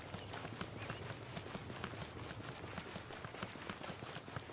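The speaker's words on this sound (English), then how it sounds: "you can faintly hear the rhythm of a horse galloping" Horse hooves gallop in the Genshin Impact video game, a steady rhythmic clip-clop that repeats throughout. It sits low and faint in a dense, noisy game mix, with no voice.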